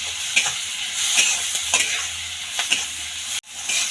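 Onion chutney with turmeric, chili and coriander powder sizzles in a pan as it is stirred, with repeated spatula scrapes and clinks over a steady frying hiss and a brief drop-out near the end.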